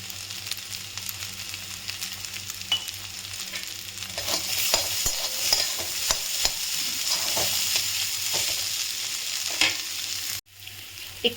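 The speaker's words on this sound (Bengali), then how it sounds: "সয়াবিনটা একটু ভাজা ভাজা হয়েছে, আলুটা দিচ্ছি।" Soybean chunks and potato frying in a pan with ginger paste, a steady sizzle with scraping stirs throughout, close and fairly loud, ending abruptly.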